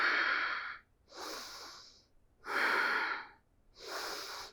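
Deep, audible breathing during a power yoga core pose, four slow breaths in and out, close and alone.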